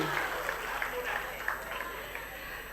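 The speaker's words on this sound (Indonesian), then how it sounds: "Kita berikan tepuk tangan yang meriah untuk Tari Julianti." Faint audience applause in a hall at a televised regional election debate in Bima, a steady patter of clapping heard at a distance, with a voice speaking over it.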